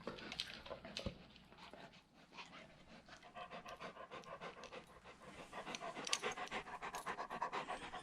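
A dog pants rapidly and rhythmically close by, quick breathy huffs running steadily throughout with no talk over them.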